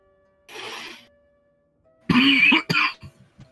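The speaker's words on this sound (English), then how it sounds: "It's always this time of year this cough redevelops." A person coughs twice, a short muffled burst followed by a louder, harsher fit of several coughs close to the microphone, with quiet gaps around them.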